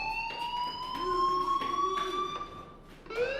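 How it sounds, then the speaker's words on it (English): A building fire alarm rings loudly and steadily, a continuous electronic tone with sharp pulses, sounding alone with no voices. "Hey, do you hear that fire alarm?"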